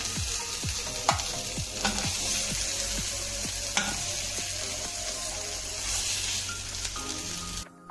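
Chopped brinjal frying in hot oil in a pan, a steady close sizzle with occasional scraping stirs and taps of a utensil, no voices, cutting off sharply at the very end.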